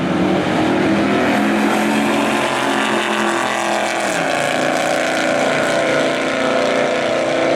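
A 1966 Chevrolet Suburban makes a drag racing pass at a hot rod drag week event, its engine roaring loud and sustained throughout, with the pitch shifting partway as it powers down the track.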